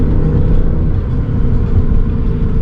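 A 2006 Volvo S40 T5 with a turbocharged five-cylinder engine accelerates through the gears, a loud, close, continuous engine rumble and whir heard from inside the car.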